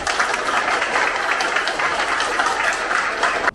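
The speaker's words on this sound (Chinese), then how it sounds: "可不可以请大家为年轻的他们再鼓励掌声" A crowd at a Hualien election rally applauds young candidates, dense sustained clapping filling the space at a steady level throughout.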